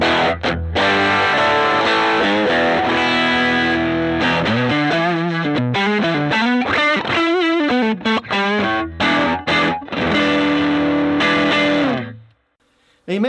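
An overdriven electric guitar on the bridge pickup through a Fender Blues Junior amp with its stock speaker plays loud, gritty chords and fast runs with bends, then cuts off abruptly near the end.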